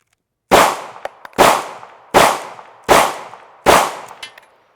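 A Sig Sauer P320 pistol fires five evenly spaced, sharp, loud shots outdoors during a dirt torture test, each followed by a short decaying echo.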